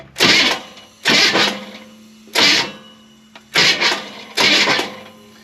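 An engine with solid roller lifters being cranked over by a remote starter in five separate bursts of whirring, each lasting about half a second with short pauses between, loud and close.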